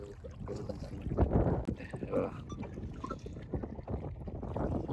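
Small boat moving on open water with wind, the splash and slap of water against the hull and a steady rushing background, close and continuous, with voices partly heard under it.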